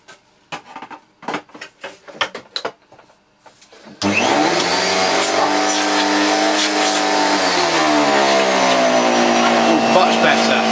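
A Panasonic MC-E42n canister vacuum cleaner switches on after some clicks and handling noises, then runs with a loud, steady whining motor hum that holds constant to the end.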